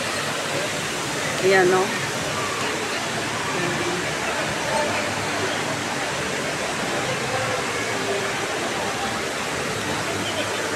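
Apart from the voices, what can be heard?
indoor waterfall at the Dubai Mall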